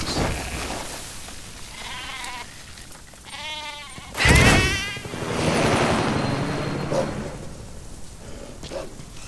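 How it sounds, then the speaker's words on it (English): A stray goat in Metal Gear Solid V: The Phantom Pain bleats in a few wavering, harmonic cries amid buzzing insect-like ambience, followed by a louder burst and a continuing wash of outdoor game sound. "it looks like we have a goat here that's been separated from its herd"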